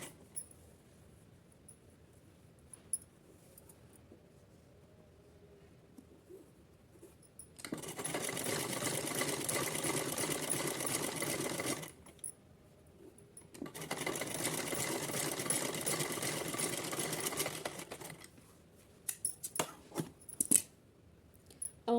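A sewing machine stitching a twice-folded hem on a small fabric cap for a Kanha ji outfit, humming in two long steady runs separated by a quiet gap, with scattered clicks before and after.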